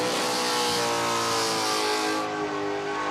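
A car doing a smoky burnout skid at Summernats in Australia, with a loud sustained engine roar at high revs that dips slightly near the end, a steady, continuous drone close by.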